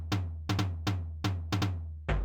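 A tom sample with a longer release plays in rapid pairs and single hits, each with a punchy attack and a deep, ringing low tail that carries into the next hit. The last hit is heavier and bassier, and there is no talk.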